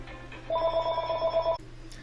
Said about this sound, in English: Oh no, phone's ringing.